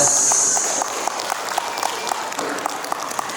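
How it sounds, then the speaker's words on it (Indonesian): Applause at a wedding gathering in Merauke, South Papua, fading from a denser burst into sparser, rhythmic individual claps, with a high tone briefly audible at the start. "Kita berikan tepuk tangan"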